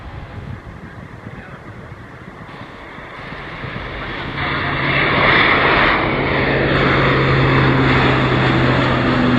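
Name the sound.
Lockheed U-2 Dragon Lady aircraft flying at airshow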